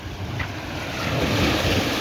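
Ocean waves wash steadily onto Holetown Beach in St. James, Barbados, with a continuous broadband surf roar and wind buffeting the microphone, swelling slightly louder in the second half and with no voices.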